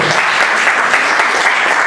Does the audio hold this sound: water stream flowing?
no